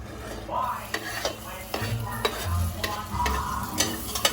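Garlic hits a hot pan for a creamy cheesy sopas, sizzling steadily while a utensil stirs and scrapes with repeated close clicks and knocks against the pan.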